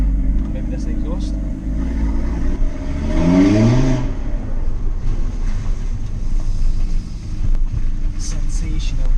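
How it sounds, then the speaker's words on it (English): Stage 2 tuned Audi RS3 8V engine and exhaust revving up from inside the car, a rising surge midway over a steady engine drone, with wind noise and voices talking throughout. "And now you can hear the exhaust as well."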